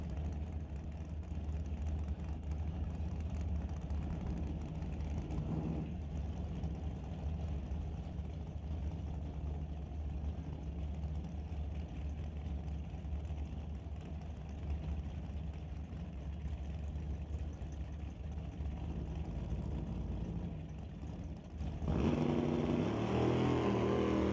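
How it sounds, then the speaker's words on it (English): A Chevy Camaro and the Lost in Time machine drag car run engines at a drag racing test-and-tune event, a steady, loud engine drone that swells and grows rougher near the end. "bringing up the Lost in Time machine for the special occasion, racing Cody Plews in a Chevy Camaro"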